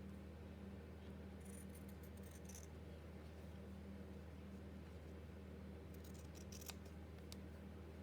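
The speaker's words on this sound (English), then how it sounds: "I'll cut some with pinking shears" Pinking shears cut pianola paper in two short bursts of faint, crisp snipping against a quiet, steady background hiss.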